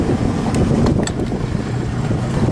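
A Boston Whaler's outboard engine idles at the dock, a loud, steady low rumble with a smooth, unbroken drone mixed with some wind buffeting.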